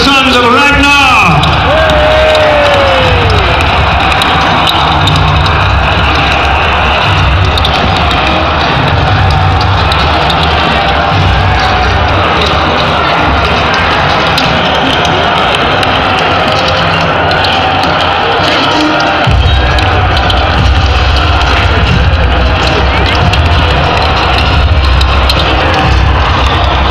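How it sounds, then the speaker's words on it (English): Large outdoor crowd cheers for the Vikings at a Viking battle reenactment in York, a loud, sustained roar of voices and shouts that holds throughout, with a commentator's voice mixed in. "Let's have a cheer for the Vikings and the sons of Ragnar."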